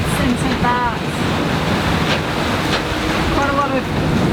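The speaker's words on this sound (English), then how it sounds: "Quite a lot of up on the waves and then slamming back down." A sailboat beating upwind through rough seas in the channel between St Kitts and St Barts, with steady loud wind and wave rush broken by the hull's thuds as it slams back down off the swells.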